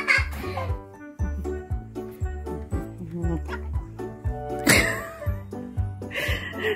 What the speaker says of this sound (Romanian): Și miaună când are ciudă.